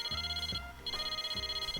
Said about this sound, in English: My cell phone rings again.